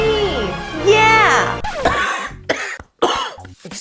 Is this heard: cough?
yes